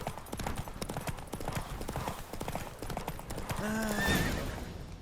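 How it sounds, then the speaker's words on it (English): A racing horse in The Witcher 3 gallops with rapid, close hoofbeats, then lets out a loud, drawn-out neigh near the end over rushing game ambience. "Don't spare the horse."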